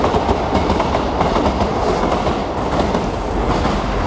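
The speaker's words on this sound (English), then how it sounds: "train's coming now." A train passes close to a residential house with a loud, continuous rumble and steady clickety-clack of wheels on rails, filling the whole stretch with no speech.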